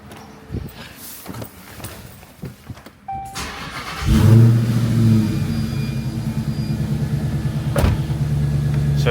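A Chrysler 300 Redeye's rebuilt engine cranks and fires up after a jump box is connected, then settles into a loud, steady idle with a rev rise near the end, close to the car.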